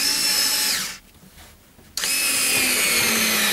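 A power drill driving a screw to fix a piece in place: loud whirring bursts with falling pitch at the start and end, a brief quieter gap between them, close and alone.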